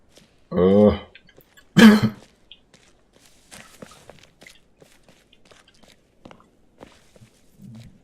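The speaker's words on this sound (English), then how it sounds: "Cough is my reaction to that." Two sharp, loud coughs close by, followed by quiet shuffling and small handling noises.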